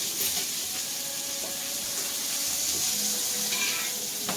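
A pat of butter sizzles in a pan alongside a nearly finished steak, giving a steady, close, moderate frying hiss with faint clinks, and no talking.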